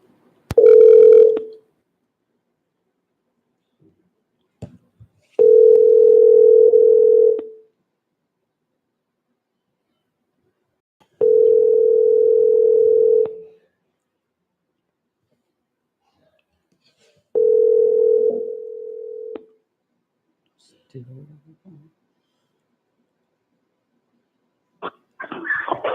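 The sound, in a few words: telephone dial tone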